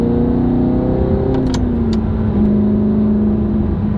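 An original Audi R8, heard from inside the cabin, hums with a steady engine drone that rises, dips briefly, then settles into an even, loud tone.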